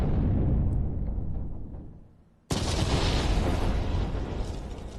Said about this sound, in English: And you hear that explosion from the left and then the debris coming across.